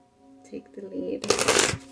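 Tarot cards shuffled close up, a short dense riffling burst that follows a brief stretch of soft talking.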